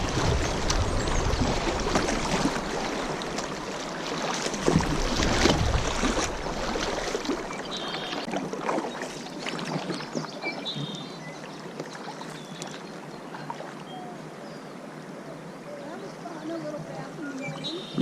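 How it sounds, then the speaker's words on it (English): A kayak is paddled through turbulent water formed by a boulder on the Lower Salt River, with rushing, splashing water and paddle strokes close by, loudest early and settling into a steadier wash later. "The boulder's forming this turbulence, and I just want to keep paddling here to maintain stability."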